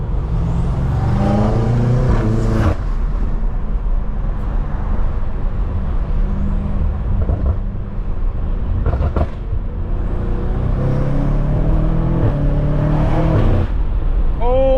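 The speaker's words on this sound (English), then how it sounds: "the car sounds insane" A BMW G80 M3 or F90 M5 being driven, loud, close engine drone inside the cabin with surges of revving and gear changes throughout, and brief voices heard over it.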